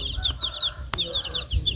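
Chickens cluck repeatedly nearby at a rural home, a run of short choppy calls with a sharp knock partway through, over low background noise and no speech.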